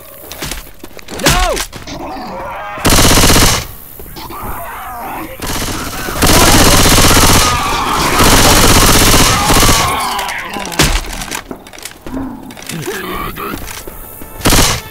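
Heavy gunfire in a Left 4 Dead 2 versus match on The Parish, with loud sustained bursts and shots between shouted voices as a Charger attacks.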